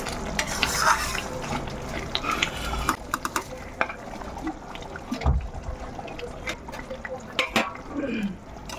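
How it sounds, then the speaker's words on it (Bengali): Katla fish pieces go one by one into already-cooked masala in a pan, with sizzling, clattering placements and stirring scrapes, fairly close and moderately quiet, in irregular bursts. "এবার আমি এক এক করে কিন্তু সব মাছগুলো এখানে দিয়ে দেবো"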